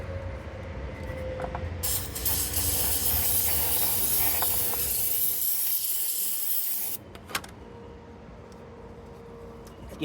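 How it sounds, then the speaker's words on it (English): Aerosol can of brake parts cleaner spraying onto the throttle body of a 2008 Infiniti G35, a loud steady hiss lasting several seconds before cutting off, followed by quieter dripping and handling sounds. "I may have to get another can of brake part cleaner."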